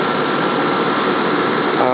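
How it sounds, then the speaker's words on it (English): A stripped-down Honda Elite S50P scooter engine runs at a steady idle, close and loud, as one continuous even drone with no breaks. "Engine cranks, turns on."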